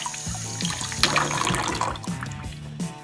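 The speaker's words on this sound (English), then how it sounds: "Now it's important that you rinse the way I'm doing now and don't turn this end of the club up." A golf club being rinsed under running water, with a splashing, gurgling stream from a tap that rises and falls as the club head moves through it, close and moderately loud.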